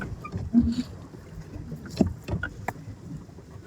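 Paddle boat moving across a lake in rural Bangladesh, with soft water splashes and paddle knocks, a sharp thump near the middle, and faint wind in the background.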